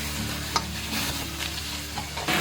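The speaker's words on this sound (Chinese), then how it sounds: "等油温4、5成热的时候，我们再下入鱼骨鱼头这些" Fish bones and a fish head fry in hot oil in a smoking iron wok over medium-high heat, making a brief, close, steady sizzle with light stirring scrapes and no voices.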